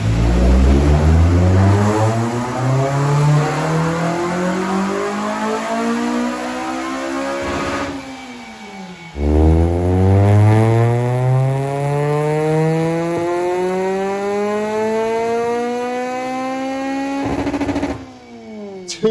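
A cammed, naturally aspirated K24-engined Honda DC2 Type R runs on a dyno in two loud, close full-throttle pulls. Each rises steadily in pitch to a high-rpm wail, then drops back briefly between runs.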